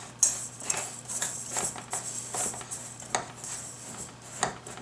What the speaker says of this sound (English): I'm simply going to take a spoon and crush this all up and mix it together